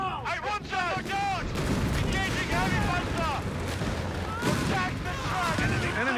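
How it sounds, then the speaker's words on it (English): Artillery shells bursting just above the ground in the World War II strategy game Company of Heroes 3, in a North Africa desert battle: a dense run of booms and crackling blasts with a background voice talking. "It's interesting artillery. It's like it gets right above the ground and then explodes"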